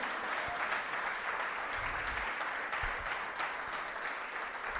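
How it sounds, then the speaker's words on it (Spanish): A church congregation at an Easter Sunday service breaks into sustained, loud applause: a dense, even wash of clapping that fills the room with no voices over it. "Fuertes aplausos a Él."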